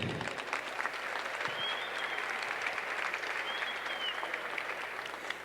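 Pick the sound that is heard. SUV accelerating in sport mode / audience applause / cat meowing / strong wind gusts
audience applause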